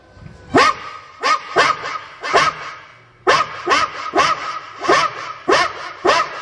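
A human voice imitates a dog barking, giving a run of about a dozen loud, evenly spaced woofs with a brief pause partway through.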